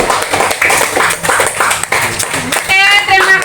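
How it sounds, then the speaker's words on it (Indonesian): Classroom of students clapping for a group after its presentation, quick uneven hand claps close by, mixed with voices and chatter throughout. "Kita beri tepuk tangan dulu untuk kelompok 3."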